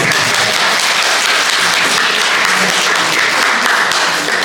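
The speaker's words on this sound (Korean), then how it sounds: "그러니까 박수 한번 칩시다." Audience at a special lecture for an environmental movement group's founding anniversary event claps in sustained, loud, even applause with no voices over it.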